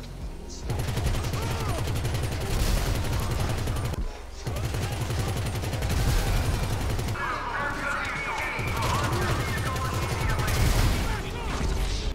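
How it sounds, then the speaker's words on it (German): A minigun in GTA 5 Online fires in long, continuous rattling bursts, dense and loud, with a short pause midway before the roaring gunfire resumes. "Jetzt nochmal kurz ein Test mit der Minigun."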